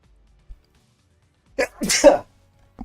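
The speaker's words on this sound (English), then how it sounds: "sorry, I sneezed." A single close, loud sneeze bursts out on its own after a faint click, set against near silence.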